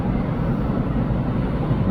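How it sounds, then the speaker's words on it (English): An airplane flies near John Wayne Airport, heard as a continuous, loud, low engine roar mixed with wind buffeting on the microphone, with no gaps throughout. "Plane moving."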